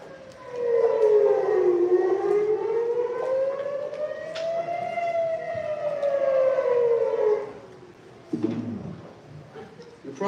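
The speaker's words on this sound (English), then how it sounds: "These are the sounds of the sirens that start on October 7 until January, and then it continues in the south, and in the north" An Israeli civil defense air raid siren wails in a long rising and falling tone, loud and sustained for several seconds before cutting off, with a few faint bird coos and light murmuring underneath.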